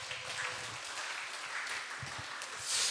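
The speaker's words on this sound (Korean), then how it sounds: "총무님께 박수 한번 칩시다." A church mission association's monthly meeting gives a round of applause, a soft, fairly distant patter of many hands in a room that swells slightly toward the end.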